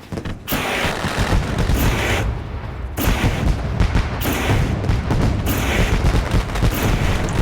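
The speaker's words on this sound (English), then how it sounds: "Let's light up them fireworks" Fireworks go off at Eldora Speedway in Rossburg, Ohio, before a Super Late Model race, a loud, rapid barrage of booming and crackling bursts with brief gaps between volleys.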